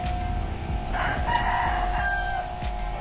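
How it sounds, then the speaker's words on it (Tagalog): At a chicken farm, a rooster crows clearly with chickens nearby, set against a steady background hum and a few faint clucks. "Ito yung kapaligiran ng manukan."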